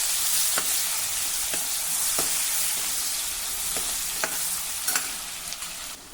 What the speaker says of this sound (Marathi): आता यामध्ये एक मध्यम आकाराचा कांदा घालू.